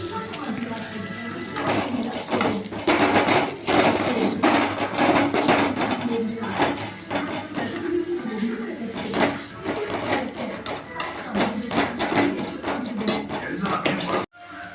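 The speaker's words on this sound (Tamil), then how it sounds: "கொஞ்சம் தேவையான அளவு உப்பு போட்டுக்கிறோம் ஒரு அஞ்சு நிமிஷம் வதக்குறோம்" Onions sautéing with salt in a pan as Macaroni pasta is made at home, a steady close sizzle with frequent clinks and scrapes of a spatula against the pan, continuous throughout and cutting off abruptly at the end.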